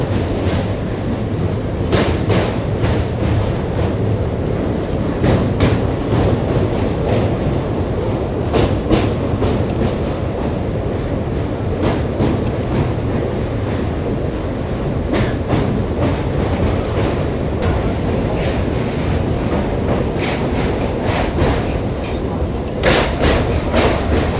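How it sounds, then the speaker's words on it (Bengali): A Medinipur local train rolls along the tracks in a steady, loud rumble, heard from inside, with rhythmic clickety-clack wheel beats recurring through the roar and no clear speech. "হাওড়া স্টেশন থেকে ছাড়ার পর ট্রেন নিজের গন্তব্যের দিকে এগোতে থাকে"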